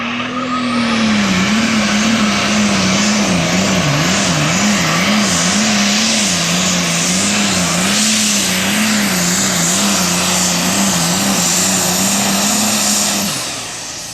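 A loud, roaring diesel pulling-tractor engine drones steadily under heavy load at a tractor pull, its pitch wavering slightly, with high whining noise on top, then cuts off at the end.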